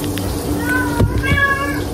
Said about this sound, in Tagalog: Uy, may pusa.